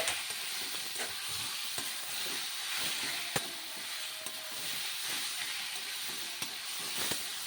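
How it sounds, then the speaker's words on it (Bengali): Bottle gourd with turmeric fries in a wok, a steady broadband sizzle with scattered sharp scraping clicks of stirring, close and continuous without any voices. "হলুদ দিয়ে নেড়ে চেড়ে ভালো করে"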